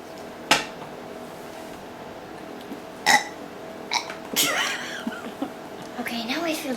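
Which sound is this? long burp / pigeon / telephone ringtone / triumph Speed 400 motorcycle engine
long burp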